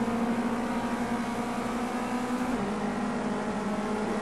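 A race car engine drones loudly and steadily at Bathurst in Project CARS 2, a continuous close-up hum with a brief pitch drop near the middle as the car slides through a corner.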